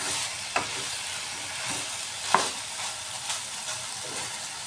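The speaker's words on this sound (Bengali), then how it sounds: "মশলা থেকে তেল ছেড়ে ছেড়ে আসছে" Spice masala for a vegetarian cauliflower, potato and soya chunk dish frying in oil, a steady sizzle broken by a few sharp scraping stirs of a spatula against the pan.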